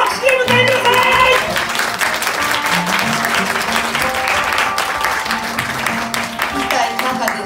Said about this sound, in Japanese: よくわからない陽気な拍手で迎えてください。